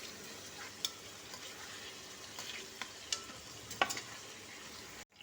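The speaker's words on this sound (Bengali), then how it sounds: "এরপরে বেগুনগুলো ভেজে দিচ্ছি।" Eggplant fries in oil in a pan with a soft, continuous sizzle, quiet and close, broken by a few sharp clicks and scrapes as the pieces are turned.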